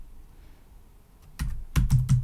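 Keystrokes on a computer keyboard while typing Python code for a CyberPi lesson, a few faint taps followed by a loud burst of clustered clacks, close and alone.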